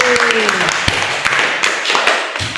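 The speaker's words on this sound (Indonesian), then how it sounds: "Beri tepuk tangan untuk nilainya yang sudah bagus" Classroom applause for students' good grades, a short burst of scattered clapping from a small group, with a teacher's voice talking over the start.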